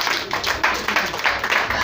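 A church congregation claps in a quick, even rhythm, loud and close, the beats landing steadily over a couple of seconds with a faint murmur of voices.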